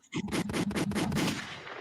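Video game gunfire rattles out in loud, rapid bursts of close shots that run together into a sustained volley before tapering off. No voices.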